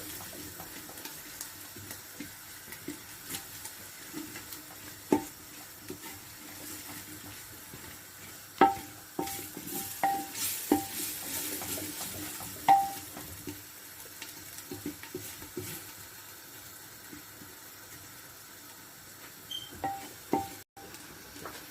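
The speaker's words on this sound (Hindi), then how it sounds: "हम मसालों को 3 से 4 मिनट इसमें भून देंगे ऑनियन में।" Spices fry with onions in a pan, a faint, low sizzle with scattered spoon clinks and taps at close range and no talking.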